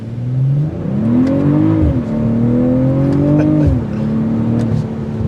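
A 2023 BMW M340i's engine pulls hard with a deep, throaty exhaust note, climbing in pitch through two gear changes, loud and close with no talk over it.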